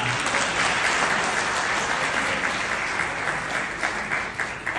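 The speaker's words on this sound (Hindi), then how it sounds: "ताली वाली बजा के ही करना पड़ेगा।" A Kavi Sammelan audience of Hindi poetry listeners breaks into loud, dense applause that sustains evenly for several seconds with no voices over it.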